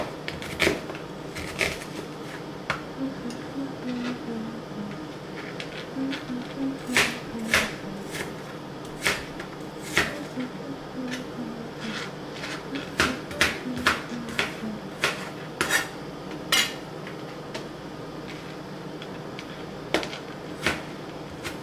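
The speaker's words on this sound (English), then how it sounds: "I'm gonna go ahead and cut up the collard greens and clean them" Knife chopping collard greens on a small chopping board, irregular sharp taps and thuds close by, clustered in short bursts with brief pauses over a low kitchen background.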